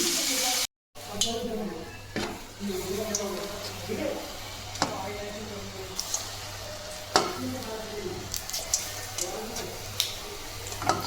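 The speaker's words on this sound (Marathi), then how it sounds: "आता हे बघा रोहिणी भजे करते" Gram-flour bhaje fritters frying in hot oil in a home kitchen, a steady soft sizzle with small pops and clinks of a utensil, continuing under a voice talking.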